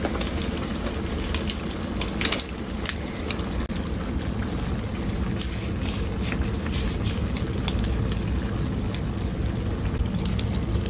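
Ghanaian shito black sauce with shrimp powder fries steadily in a pot, a dense continuous sizzle and bubbling with light scraping clicks from stirring, close and alone without talk.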